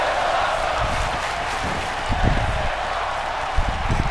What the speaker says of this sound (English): This crowd loving it.